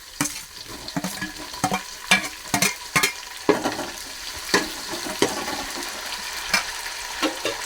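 Chopped tomatoes and green chilies sizzling in a pan for an Indian halibut (adalah) fish curry, with loud intermittent stirring scrapes and clanks over a constant fry hiss, close up.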